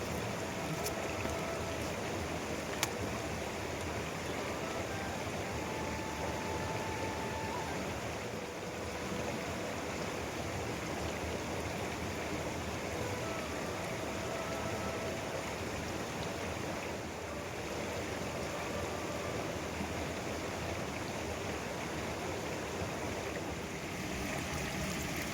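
A cold mountain stream in the hills flows in a steady, broadband rushing wash, quite faint and continuous throughout, with a couple of small clicks and no speech.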